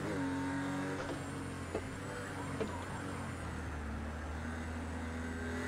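A race car engine in Project Cars 2 drones steadily through a race, a constant mid-pitched hum with a couple of brief knocks, fairly quiet and with no talk.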